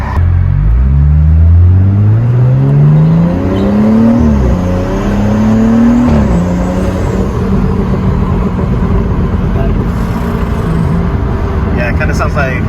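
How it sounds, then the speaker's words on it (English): Car fitted with an MST Performance intake revs up loud and close, pitch climbing in a steady sweep, dropping, then rising again before settling into a sustained rumbling drone for the rest of the clip. "hopefully we'll be able to get some clear sound out of it"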